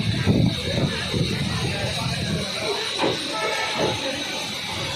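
The Uttaranchal Sampark Kranti Express pulls out of Ghaziabad Junction with a steady, close rumble of rolling wagons and a hissing wash. Low thumps sit underneath, and faint voices can be heard in the background.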